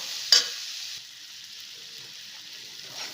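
Spices with Kashmiri red chili powder sautéing in a pan for capsicum rice, giving a steady soft sizzle with a brief sharp scrape of stirring near the start, close and alone without voices.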